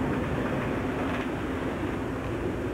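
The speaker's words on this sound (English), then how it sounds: "And the train outside of Innsbruck." Train running near Innsbruck, Austria, a steady loud rumble and roar of rail cars that fills the clip without a break, with no voices over it.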